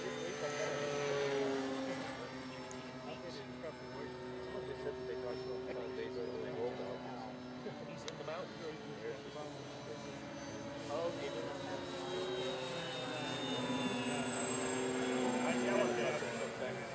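Buzzing engine drone of a radio-controlled Deuces Wild model airplane flying at an RC club field, rising and falling as it passes, steady and mid-distance, with people talking over it.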